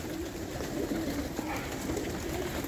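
Murzyn pigeons coo softly and continuously close by while feeding, their low burbling calls repeating over a steady background rustle.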